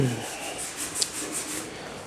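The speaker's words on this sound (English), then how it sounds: "I'll take a smaller block and I'll block just these areas down" A small sanding block rubs over soft body filler on a car door in quick, even back-and-forth strokes. The rasping scrape is faint, close and steady, with no voices.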